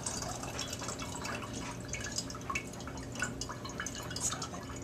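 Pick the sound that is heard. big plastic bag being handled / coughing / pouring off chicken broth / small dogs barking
pouring off chicken broth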